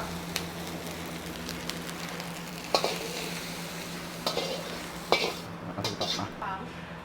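Thai fried rice being stir-fried in a pan, with a constant low sizzle under repeated metallic scrapes and clanks of the spatula against the pan, plus a steady background hum.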